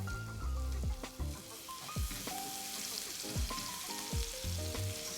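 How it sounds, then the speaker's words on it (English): Sliced shallots frying in avocado oil with bacon drippings in a pan, a close, dense crackling sizzle with scattered pops and a few utensil clinks, heard alone without talk. "So I'm adding the avocado oil and my shallots that I sliced earlier"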